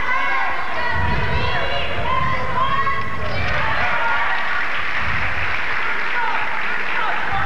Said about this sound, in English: The crowd seems to be into this bout already